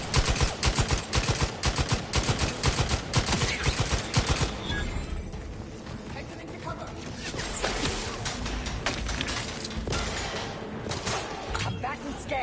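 Gunfire in The Outer Worlds 2, a dense rapid burst of shots in the first seconds that tapers into scattered cracks and clatter, with a voice speaking over the fight.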